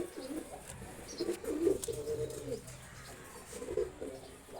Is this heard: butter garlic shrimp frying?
no